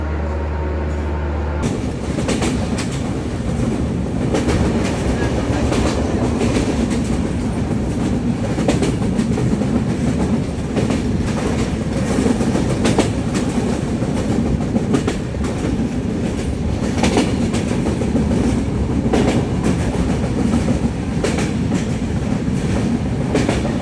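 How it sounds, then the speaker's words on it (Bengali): A heavy, steady rumbling drone of an LHB coach train's power car running continuously, with rhythmic clacking of wheels on rails and no voices. "এই এলএইচবি কোচের সাথে যে পাওয়ার কার থাকে এর শব্দ কিন্তু প্রচণ্ড পরিমাণে বেশি।"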